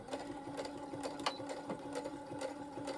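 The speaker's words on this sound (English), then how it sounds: "I'm just going to go over those stitches again to reinforce them" Sewing machine running back over a fabric seam to reinforce the stitches, a quiet, steady mechanical whirr with fast needle clicks, heard close and alone.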